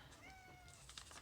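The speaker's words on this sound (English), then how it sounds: "That's my cat that you're hearing." A house cat meows in a rising, drawn-out call with a second shorter meow after it, near and fairly quiet, with soft rustling of packing paper around it.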